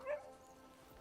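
A bulldog in the Crimson Desert video game gives a short, faint bark or yip near the start, then only a quiet background hum remains.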